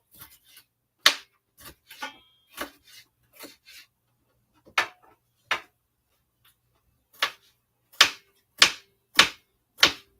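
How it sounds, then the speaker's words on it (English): Kitchen knife chopping red bell peppers into small squares for breakfast cups, with sharp, close knocks against a cutting board at an uneven pace, growing into a quicker run of strokes near the end. "So we chop up some red peppers right here"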